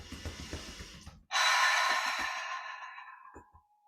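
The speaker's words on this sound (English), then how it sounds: "inhale through the nose, and exhale out of the mouth" Breathing warm-up: a soft inhalation through the nose followed by one long, loud, breathy exhale out of the mouth, close up, fading out slowly with no talk.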